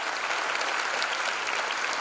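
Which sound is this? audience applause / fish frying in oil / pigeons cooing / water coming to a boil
audience applause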